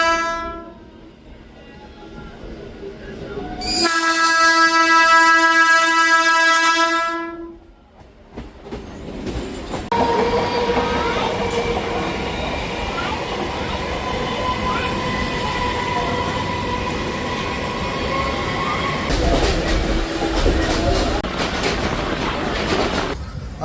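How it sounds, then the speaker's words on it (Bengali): Madhyamgram–Majherhat down local train 30358 at Madhyamgram station: a long, loud horn blast, followed by the steady rumble and rattle of the train running, heard close by with no talking. "আজকে আমি যাত্রা করছি train number 30358 down Madhyamgram Majerhat local."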